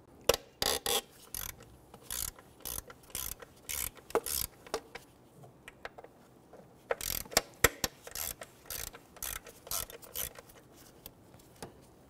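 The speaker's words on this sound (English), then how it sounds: "Using our number 5 Allen key here, I'm going to go ahead and loosen the bolts for our throttle body." A number 5 Allen key loosens the throttle body bolts on a 2008-2013 Infiniti G37 3.7L V6, making repeated close ratcheting clicks in short bursts with brief pauses between.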